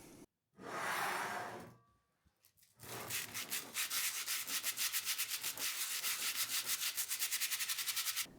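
A brief scraping rub, then after a pause a fast, steady back-and-forth rasp of sandpaper hand sanding a cast iron skillet, close and continuous.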